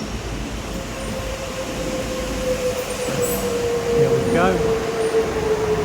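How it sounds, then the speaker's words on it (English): A tram rolls into a station in the Deptford or Lewisham area with a low rumble and a rising metallic wheel squeal near the end, while someone speaks briefly. "So the tram's coming in now."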